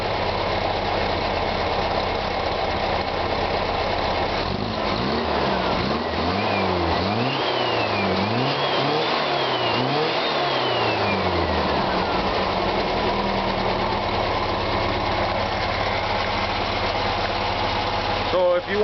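A 1600cc VW engine in a sandrail with a cheap muffler idles, then revs up and down several times in the middle before settling back to a steady idle, loud and close.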